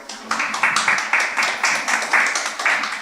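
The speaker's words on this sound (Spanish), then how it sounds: "un aplauso, por favor" Audience applause at a workshop talk, a dense crackle of many hands clapping with rhythmic surges, fairly close and continuous throughout with no talking over it.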